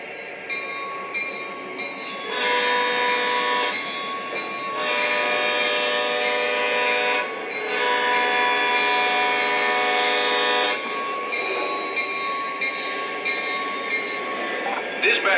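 Lionel model trains run on a layout with a steady whirring rumble of wheels on track, broken by several long, loud tonal horn blasts sounding in bursts.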